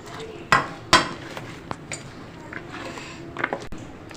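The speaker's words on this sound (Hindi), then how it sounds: "अब इसको हम अच्छी तरह से मिक्स कर लेंगे।" Spinach pakora marinade being mixed in a bowl: a few sharp utensil clinks against the bowl and a scattering of softer scraping taps, close by and moderately loud, with faint background murmur.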